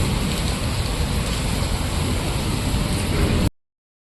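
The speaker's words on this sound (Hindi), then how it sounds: "ये देखो गाइस क्या बारिश हो रही है मस्त करके" Heavy rain pours down outdoors in a steady, dense broadband wash, loud and continuous, then cuts off abruptly near the end.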